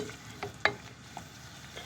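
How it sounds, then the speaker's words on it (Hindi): Chicken frying in oil in a pan with boiled chana dal, a soft sizzle with stirring scrapes and one sharper clink near the middle, close and fairly quiet, no talk. "इसको भून लेंगे बहुत अच्छी तरह"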